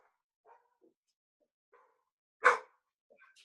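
A dog gives one sharp, fairly close bark between a few fainter, scattered yips or rustles, in an otherwise quiet room.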